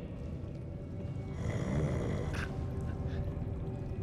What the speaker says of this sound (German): Der schnarcht und ich dachte, das ist Grunzen.